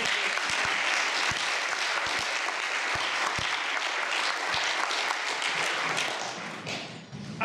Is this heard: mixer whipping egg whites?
no